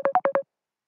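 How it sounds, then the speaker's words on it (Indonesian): A telephone sounds for an incoming call as four quick, evenly spaced electronic beeps, close and clear, followed by silence. "bentar ya, ada yang telepon."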